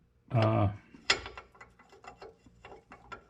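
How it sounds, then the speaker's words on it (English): A ratchet wrench works on the 13 mm rear brake caliper bolts of a 2015 Cadillac Escalade ESV AWD, with a brief voice at the start followed by a series of soft, close ratcheting clicks. "we're gonna take the 13 millimeter bolts out"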